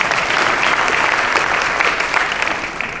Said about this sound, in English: you can clap at that